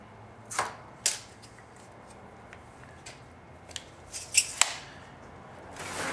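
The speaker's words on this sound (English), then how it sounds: "cutting out this the 18 gauge stainless, you can try using a pair of Bulldog bench snips" Bulldog bench snips cutting 18 gauge stainless steel sheet for a modular rocket stove, a handful of sharp metallic snips and clicks spaced irregularly against a quiet background.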